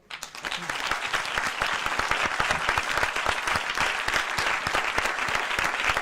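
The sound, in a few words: audience applause after a debate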